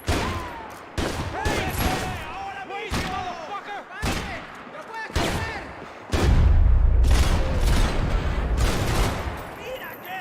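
Gunfire from the video game Max Payne 3: bursts of shots and heavy booming volleys in close succession, loud and dense, with someone talking excitedly over parts of it.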